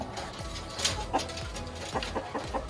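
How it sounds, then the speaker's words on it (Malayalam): Native chickens cluck in an outdoor terrace cage at a fancy chicken farm in Kashmir, with a Fayoumi rooster kept among them. Several short, fairly close clucks rise over a steady background of farm noise. "നാടൻ കോഴികളാണ്."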